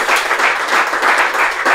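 Applause from a podcast studio audience honoring a running community, steady dense clapping throughout, fairly loud and close with no talk over it.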